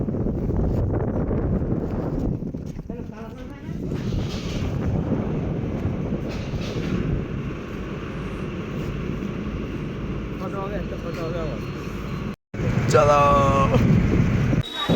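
An empty passenger launch pulls away from the bank at dawn with a steady engine rumble and rushing wind, near and continuous, while people talk over it and a brief break cuts through near the end.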